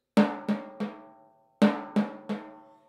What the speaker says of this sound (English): is using 3 strokes on each lick instead of 2, which would make the licks sound like this